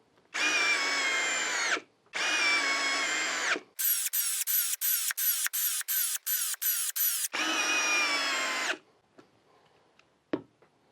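A 12-volt brushless Hyper Tough cordless drill whirs in sustained bursts, then stutters through a series of rapid short pulses, followed by another long run and a few clicks.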